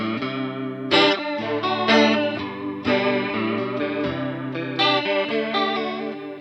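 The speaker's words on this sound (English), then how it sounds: "I don't think you really realistically ever want a faster, deeper, wobblier chorus sound." A Rocktek CHR-01 chorus pedal with rate and depth at maximum processes a clean electric guitar, giving a loud, fast, deep wobbling shimmer over sustained chords with several strums, alone without talk.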